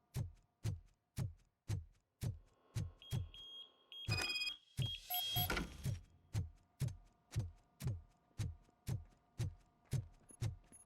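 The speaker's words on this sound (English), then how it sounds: "You should really check what caused that beeping sound" Steady, evenly spaced electronic beeps repeat about twice a second, with a brief burst of clattering noise in the middle, in the video game RoboCop: Rogue City.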